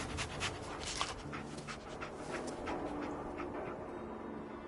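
Dogmeat, the canine companion in Fallout 4, pants steadily in Diamond City, a soft continuous huffing under faint game ambience.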